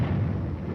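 Continuous deep rumbling booms of air bursts from a battalion of 105mm howitzers, a dense, loud, rolling barrage with no gaps between blasts.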